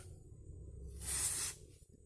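A short hissing burst from an aerosol can of penetrating oil, sprayed onto a tight part during drum brake service on a Yamaha RD350 motorcycle, lasting about half a second over quiet background hum.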